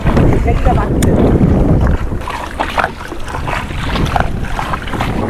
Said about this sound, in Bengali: এখন নৌকা চলছে পাল টাঙানো হয়ে গেল এবার হাওয়াতেই যাবে নৌকা আমাদের